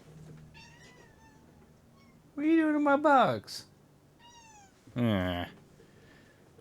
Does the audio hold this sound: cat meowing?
yes